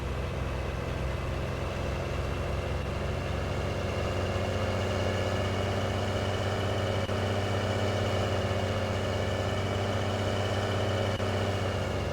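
A GMC grain truck idles in Farming Simulator 19, a steady, even engine drone with a low rumble that holds unchanged from start to finish, with no voices.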